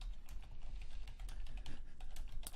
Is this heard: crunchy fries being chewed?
no